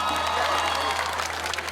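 Audience applause at a live orkes band performance for a high school crowd, dense steady clapping with a murmuring crowd mixed in, fairly loud and continuous throughout with a low hum underneath.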